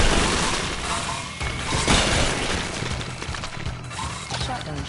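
Rapid video game shotgun blasts crash out in a busy, noisy sequence of sharp bangs, with a voice speaking faintly underneath.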